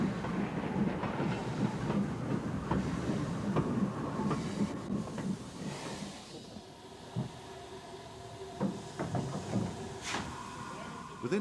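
An older-class locomotive hauls a freight train bound for Titograd in 1993, with rolling wheels, rhythmic clickety-clack and occasional hisses close by. Someone narrates over it.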